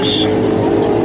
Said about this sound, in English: There goes another Porsche.